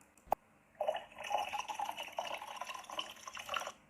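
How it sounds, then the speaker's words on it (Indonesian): A drink being poured as an animation sound effect: a short sharp tap, then a soft, fairly faint trickle of liquid filling a glass for a few seconds, with no talk. "Untuk sound effect kita memberikan suara menuang minuman."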